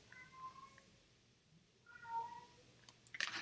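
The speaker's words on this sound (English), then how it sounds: "Why is my cat crying so much?" A cat cries indoors with a few drawn-out meows, soft and somewhat distant, separated by quiet gaps, before a brief burst of clatter at the end.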